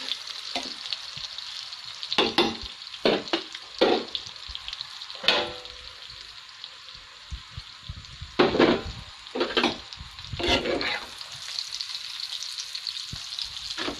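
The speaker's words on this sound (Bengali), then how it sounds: "আমার ডিম ভাজা হয়ে গেছে" An egg frying in oil, a soft steady sizzle under repeated bursts of stirring and scraping in the pan, close by, with no voices.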